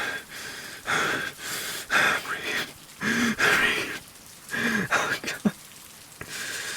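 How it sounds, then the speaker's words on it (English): Rain falls in a steady hiss throughout, while heavy, ragged breathing and gasps come in close, repeated bursts over it. "The rain still falls"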